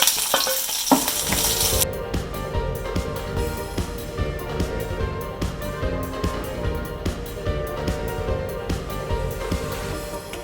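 Green chillies and curry leaves sizzle and crackle in hot oil for a homemade guava pickle, a loud, steady frying hiss with stirring clatter that starts abruptly after a brief quieter moment, with no speech.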